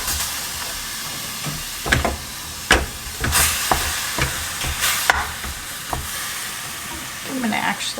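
Lean beef sizzles and fries in avocado oil in a pan, a steady hiss broken by repeated scraping stirs and clatters of the utensil against the pan, close up, with no talking.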